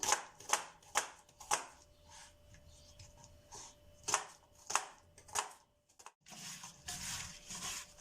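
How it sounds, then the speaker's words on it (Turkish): A knife chops dry onions into wedges on a board in a series of crisp, irregular strikes, close by, with short pauses between bursts. "Kuru soğanlarımızı doğruyoruz katır tırnağı."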